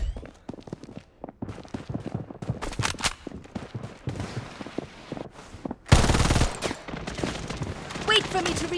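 Rapid automatic gunfire from the mobile shooter game Blood Strike: bursts and single shots crack in irregular clusters alongside footsteps, building to a loud, dense volley partway through, with voices faintly present.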